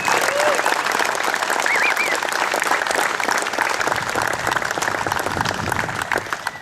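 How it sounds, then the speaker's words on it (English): A crowd at the 2013 USSSA Hall of Fame Classic gives Sergeant Carter Hess a big round of applause, loud continuous clapping that carries steadily with a faint voice and whistle in the mix before easing slightly at the end. "Please join me in another big round of applause"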